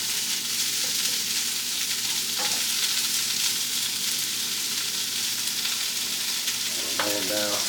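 Seafood sizzling and crackling steadily in a hot pan as it is slowly stirred, with a few scraping clinks of the utensil, close and continuous with no talk.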